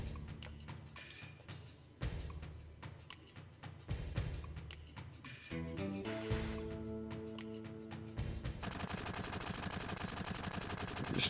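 Gunfire during a Final Fantasy 7 battle: repeated sharp shots and clicks in irregular bursts, later turning into rapid continuous fire, layered over game music and effects at moderate volume.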